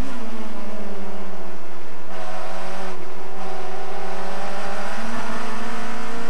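A 1996 Honda Accord touring car in the JTCC championship, heard onboard from the cockpit, its engine loud and steady at high revs through a long pull, pitch dipping and rising again as the driver shifts, no voices.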